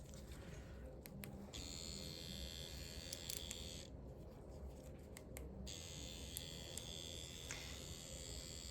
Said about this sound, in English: So I can hear a bit more vibration at the tip, which means that the needle is moving around in the cartridge a bit more.